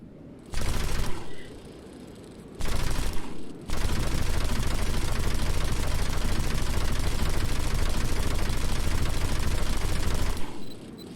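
Sustained rapid gunfire in the War Thunder video game's Space Thunder mode: two short bursts, then a long unbroken roar of automatic fire lasting several seconds, loud and dense throughout.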